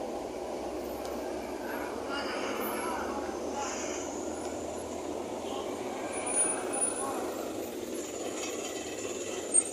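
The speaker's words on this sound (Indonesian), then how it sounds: "Ini yang masuk bis pusaka karoseri Neglasari." A Pusaka city bus with a Neglasari coachwork body, formerly a PO Kuantas Bima coach, pulls into a stop on the Bogor–Parung route. Its engine gives a steady, moderately close rumble, with faint background voices and a short hiss near the end.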